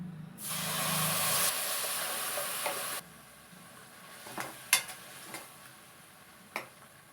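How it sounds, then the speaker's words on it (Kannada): Masala frying in a hot pan for masala puri gives a loud steady sizzle for about three seconds, then fades to a low crackle with a few sharp clinks of a spoon against the pan. "ಮಸಾಲೆಯ ಹಸಿ ವಾಸನೆ ಹೋಗುವ ತನಕ ಫ್ರೈ ಮಾಡ್ತಾ ಇರಬೇಕು"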